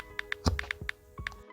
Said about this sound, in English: If your keyboard sounds like this when you're typing